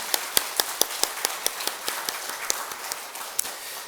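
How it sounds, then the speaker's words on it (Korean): A church congregation claps together in a sustained round of applause, with sharp hand claps standing out against a dense patter of lighter clapping, steady and close, with no talking. "다시 한번 우리 하나님 앞에 크게 영광의 박수를 돌리겠습니다."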